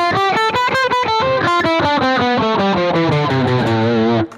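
Distorted electric guitar runs up a minor scale, one loud sustained note after another in a steady rising sequence, played alone and ending abruptly.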